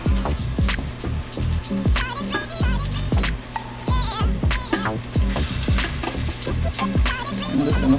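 Chicken fried steaks sizzle and crackle steadily in a skillet of shallow canola oil, with busy popping bursts throughout, close and fairly loud, and no talking.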